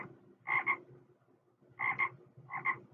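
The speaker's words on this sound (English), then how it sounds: "When I'm done, the frogs will take care of the mosquitoes." Frogs croaking nearby in short doubled bursts, three distinct croak groups spaced across a quiet background.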